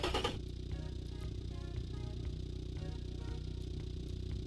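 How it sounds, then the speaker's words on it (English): Honda D16V1 four-cylinder SOHC engine idling in stock form, a steady low droning hum with faint rhythmic ticking, quiet and even after a brief louder burst at the start. "As you can hear, sounds like any typical 4-cylinder engine."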